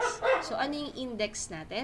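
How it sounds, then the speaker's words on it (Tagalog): A dog barks repeatedly in quick yips and bow-wows close by, breaking over a teacher speaking Filipino during a math lesson. "Pasensya na po sa aso."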